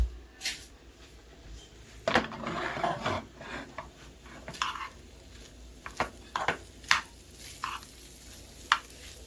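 Kielbasa sausages fry in a pan with a soft sizzle, broken by irregular scrapes, knocks and clatter of a utensil turning them, some louder bursts, close and without talk.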